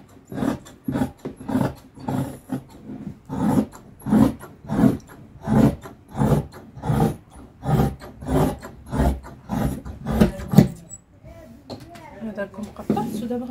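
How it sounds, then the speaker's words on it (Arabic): Scissors cutting through djellaba fabric to shape a sleeve, making a regular series of rasping snips roughly every second, close and fairly loud, then stopping near the end. "نقطع باش يبان لكم."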